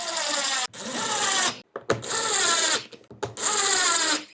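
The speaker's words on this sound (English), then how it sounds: "with that drill driver on a low torque setting" A drill driver on a low torque setting whirs in three short bursts separated by brief pauses, close and fairly loud, driving screws back into a Pelican case.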